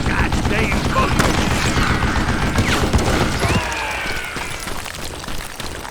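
Rifle shots crack through a busy firefight in the Western shooter Call of Juarez Gunslinger, dense overlapping gunfire and clatter for most of the span, thinning toward the end.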